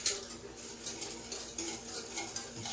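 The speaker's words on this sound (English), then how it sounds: "Just stir that around real good." Melted butter stirred in a pot over low to medium heat, with quick metal-on-pot scrapes and clinks repeating in a brisk rhythm over a faint sizzle, close and without talk.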